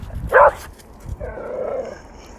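A pet dog on a walk barks once loudly and close, then gives a softer drawn-out whine or growl-like yelp, with quiet street ambience between.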